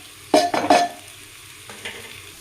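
Onion, crushed garlic, ginger, pepper and green chili dropped into a hot pan, giving a sharp burst of sizzling with a few stirring scrapes, then a quieter second stir; no talk.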